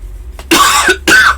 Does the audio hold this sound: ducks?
no